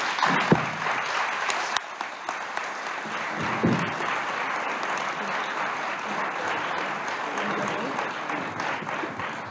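Sustained applause from a conference audience honoring the invited speakers at an inaugural event on archives and human rights, steady dense clapping filling the whole stretch with a few louder individual claps.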